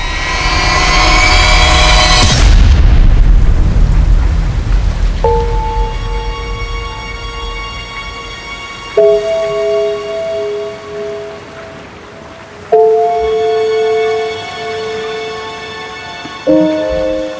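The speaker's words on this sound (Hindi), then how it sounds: "चल घर चल, बहुत बारिश हो रही है।" Loud, heavy night rain pours for the first couple of seconds, then fades under sustained, drawn-out music tones; no distinct thunder crack stands out.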